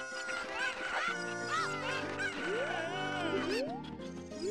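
Chickens cluck and squawk in Zelda: Ocarina of Time, with several bird calls and rising squawks over game music, moderately loud and steady.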